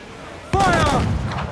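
Ship cannon fire in the pirate video game Assassin's Creed IV: Black Flag, one loud booming blast that hits abruptly and rolls out in a rumbling tail.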